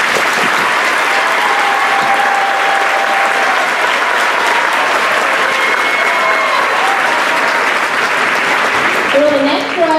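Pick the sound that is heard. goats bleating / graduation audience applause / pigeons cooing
graduation audience applause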